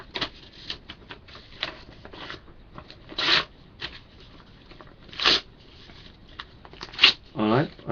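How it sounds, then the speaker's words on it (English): Loose pieces of paper are handled and shuffled close up, making soft rustles and a few louder crinkling bursts, with a quiet voice in the background. "take this piece of paper"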